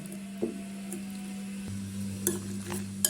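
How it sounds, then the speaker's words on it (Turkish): Pasta is stirred into eggs in a pan, with a few soft scraping and clinking strokes over a faint low hum and no talking. "Şimdi makarnaları yumurtaların üzerine alıyorum."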